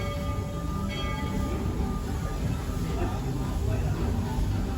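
Walt Disney World Railroad Lilly Belle steam train rolling steadily, a continuous rumble and rattle of the carriages heard from on board, with voices in the background.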